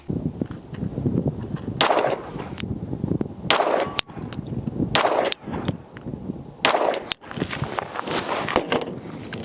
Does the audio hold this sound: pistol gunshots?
yes